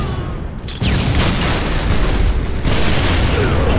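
Loud sniper gunfire from a video game match: heavy booming shots with sharp onsets, one near the start and more after about a second, each followed by a dense, sustained roar.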